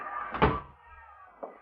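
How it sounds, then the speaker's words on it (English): A door shut in an old 1950s radio suspense drama, a single solid thud near the middle followed by a softer knock a second later, close and fairly quiet. "Shut the door, Lou."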